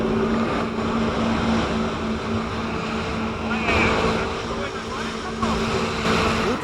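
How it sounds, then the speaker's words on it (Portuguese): Firefighters' jet ski running on open water during a rescue of young people stranded on an island, a steady engine drone with wash and wind noise throughout, fairly loud and continuous. "Os bombeiros tiveram que usar a moto aquática para tirá-los de lá."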